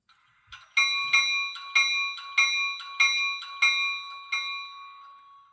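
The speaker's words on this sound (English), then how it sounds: "F1 is the bell." Bell sound from a Scale Trains Southern Pacific SD40T-2 model locomotive, seven bright metallic rings in an even rhythm, clear and close with no talk.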